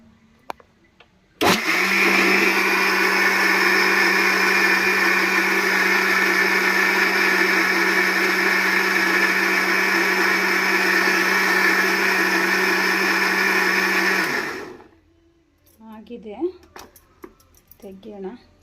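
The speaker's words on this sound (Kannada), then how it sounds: "ಸೊ ಇದನ್ನು ಫೈನ್ ಪೇಸ್ಟ್ ಮಾಡಬೇಕು. ಸೊ ಇದು ರುಬ್ತಾ ಇದ್ದೀನಿ." A kitchen mixer grinder runs loud and steady for about thirteen seconds, blending grated coconut into a fine paste, then stops abruptly, followed by brief clattering and someone talking.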